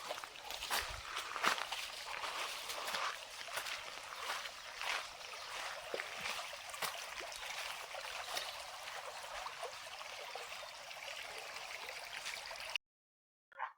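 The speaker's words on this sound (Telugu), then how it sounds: "ఈ నల్ల రాళ్ళ మధ్య ఈ వాటర్ వస్తున్నాయండి చాలా బాగున్నాయి ఒకసారి చూడండి ఆ శబ్దం కూడా వినండి ఎంత బాగుందో" A forest stream runs between black rocks, giving a steady broadband rush of flowing water that stays level and fairly close for most of the clip, then stops abruptly near the end.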